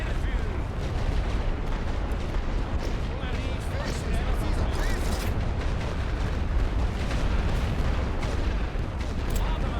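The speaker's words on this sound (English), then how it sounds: "At least now I could just pound this with artillery." Continuous dense rumbling barrage of artillery shelling across a World War One trench line in The Great War: Western Front, loud booms overlapping with no gaps for the full stretch.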